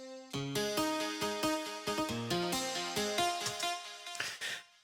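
The Lo-Fi Guitars preset from a reFX Nexus expansion pack plays a melodic run of plucked steel-guitar notes. The quick, bright tones ring out in an even rhythm and thin out near the end.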